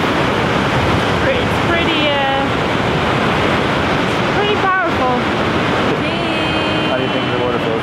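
Gullfoss waterfall in Iceland roars in a loud, continuous wash of falling water, with people's voices faintly heard over the torrent.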